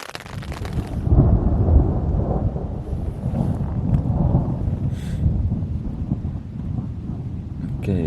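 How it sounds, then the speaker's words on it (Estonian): Thunder rumbling low and heavy during a storm on a Pyrenees mountain hike, with a steady roar of rain and wind throughout, swelling strongest in the middle and easing slightly toward the end. "aga äikestoorm on lähemale tulnud"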